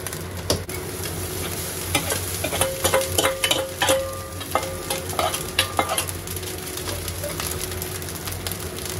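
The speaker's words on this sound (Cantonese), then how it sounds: "咁就我哋落炒蛋飯啦" Cold rice and egg white being stir-fried with salmon floss and dried scallop over medium-low heat: a continuous close sizzle broken by repeated scraping and clattering of a spatula tossing rice in the pan.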